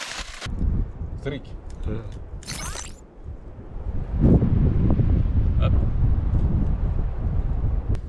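Wind gusting across open Sahara desert ground under an acacia tree, a steady loud rush with heavy buffeting on the microphone that swells stronger midway and persists, with brief voices and shuffling early on.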